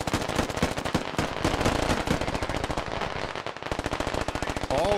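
Automatic weapons fire rattles in rapid, overlapping bursts during a Squad video game match between US and Russian sides, dense sustained gunfire with a few heavier cracks, loud and continuous throughout.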